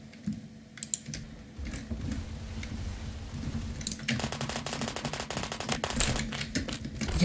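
Rapid automatic gunfire in the Roblox shooter Phantom Forces, a dense burst of close, loud shots starting partway through and running to the end over a busy game background.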